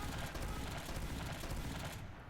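Rapid gunfire from the Panic Attack weapon in a video game, a dense continuous burst of shots that runs loud and steady for about two seconds before cutting off.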